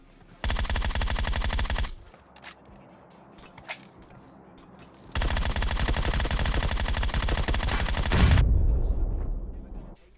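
Two long automatic bursts of gunfire from the mobile game PUBG Mobile, each a rapid, loud string of shots, separated by a short pause with scattered single sounds, the second burst ending in a boom.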